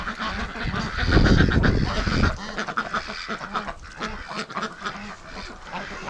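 A flock of hungry breeding ducks quacks loudly and continuously nearby, with a burst of especially heavy honking early on that then settles into steady chatter.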